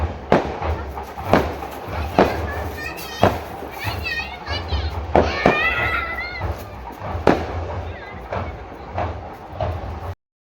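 Fireworks at a temple festival in Kerala burst in sharp, booming cracks every second or so, echoing at middle distance while children play and shout nearby.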